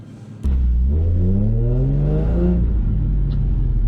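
A cheap car's engine bursts into a loud, close rev that climbs steadily in pitch for about two seconds and then holds at a sustained, buzzing drone during a drift run, with no voices.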